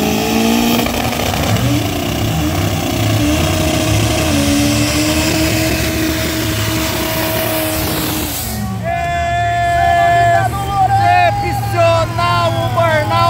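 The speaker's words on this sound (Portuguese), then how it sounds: "Aguardando o acionamento do motor do Opala Carbo aqui na pista da direita de José Marudema" Drag race cars, an Opala and a Chevette, rev loudly at a drag strip, with engine pitch climbing and holding before cutting off, followed by squealing tire noise, while an announcer talks over the din.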